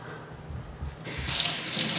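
Tap water runs into a sink while ingredients for a beef salad are washed. It starts softly, then swells into a loud, steady hissing gush, close by with no talking.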